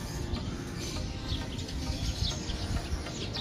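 A flock of racing pigeons gathered at a basketing in Santiago, Isabela on a windy, overcast day gives soft scattered chirps and coos over low rumbling wind noise, close and continuous.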